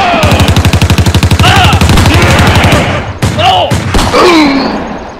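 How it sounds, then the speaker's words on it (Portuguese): A gunfire shootout aboard a plane from the film Punisher: War Zone: a loud, rapid burst of automatic fire hammers for about two seconds, then breaks into scattered shots and impacts, with voices shouting over the din. "E quando o tiroteio começa"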